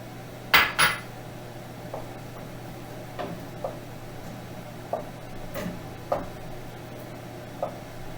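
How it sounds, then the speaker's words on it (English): A spoon stirring spaghetti meat sauce in a pot, with faint scattered clinks and taps of metal against the pot over a low steady hum. "I'm going to stir all my sauces together"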